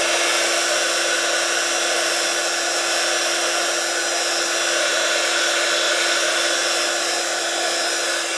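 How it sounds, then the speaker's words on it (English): A two-setting heat gun blows on craft powder for a rust effect. A loud, steady, continuous whoosh of air with a constant whine runs close by without a break. "I like to use a heat gun that has two different settings, one for drying and one for melting"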